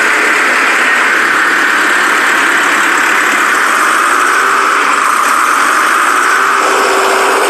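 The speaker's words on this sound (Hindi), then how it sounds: "एक वर्कर तैयार ट्रैक्टर को रोड टेस्ट के लिए ले जाता है।" A finished tractor fresh off the manufacturing line runs steadily for its road test, the engine a loud, continuous mid-pitched drone with a slight rattling vibration and no break or pause.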